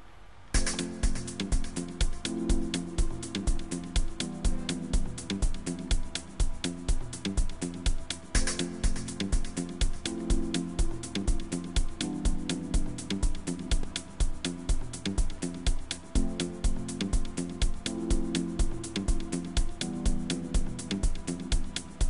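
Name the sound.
beat made in FL Studio with bass and piano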